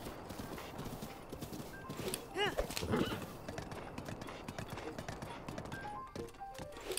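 Horse hooves clip-clop steadily in Zelda: Breath of the Wild on Hyrule Ridge, with a clear whinny rising midway over a busy game soundscape and faint background chatter.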